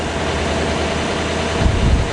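A Duramax 6.6 liter turbo diesel runs in a 2012 Chevrolet Champion wheelchair shuttle bus, a steady low idling rumble held close and even, with a slightly louder thump of revving near the end.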